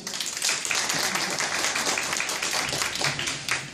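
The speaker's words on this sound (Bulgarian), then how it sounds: "моля вашите аплодисменти за първата колекция българските гласни" Audience applause at a Bulgarian school letters celebration, dense rapid clapping from many hands filling the room steadily for several seconds.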